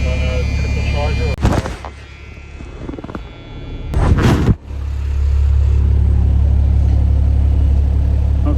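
An old bus engine, started after sitting for about four months, idles while warming up with a steady, loud low rumble, broken by two brief bursts of louder noise near the start and middle.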